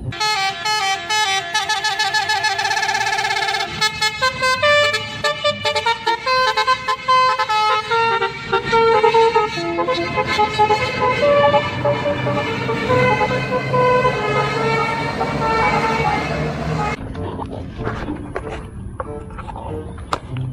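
A Sudiro Tunggak Jaya bus rolls past, blasting a long, loud musical multi-tone horn in repeated bursts over its engine rumble, ending with passing traffic noise.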